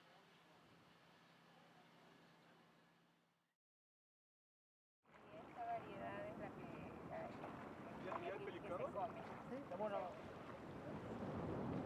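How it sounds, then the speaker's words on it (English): Zodiac inflatable boat motoring along the coast of Santiago Island in the Galapagos, with steady engine and wind rumble, a brief drop to silence, then louder rushing water and wind noise over the hull, with voices faintly mixed in. "Today we're zodiac riding along the coast of Santiago Island, right across the bay from Chinese Hat."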